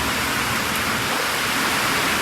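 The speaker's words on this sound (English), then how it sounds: "It's starting to rain out there." Rain falling outside a garage during a VW Karmann Ghia restoration, a steady loud broadband hiss with no breaks and no voices.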